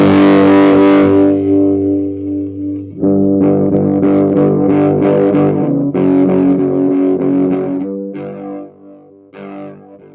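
An electric guitar played through a Big Muff fuzz pedal, thick fuzz: a loud sustained chord fading, then several heavy chords and riffs with long sustain and pauses between, no talking.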